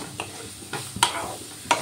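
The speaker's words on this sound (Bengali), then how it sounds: "মশলার সাথে ভালো করে ভেজে নেব।" Close, sharp scrapes of a spatula stirring grated cauliflower and spices in a frying pan, three or four strokes over a low sizzle.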